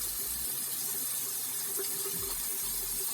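Running water splashes steadily as a face is wetted at a sink, a continuous close rush of flowing water with no talking.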